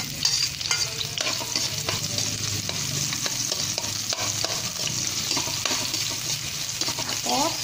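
Chopped onion hits a pan already holding ginger for a crab and shrimp coconut-milk dish, sizzling steadily while a utensil stirs and scrapes in repeated, close strokes.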